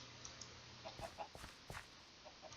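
Soft clucking from ender pearl chickens in a Minecraft-style game, a few short, faint cluck bursts spread out over a low steady background hum.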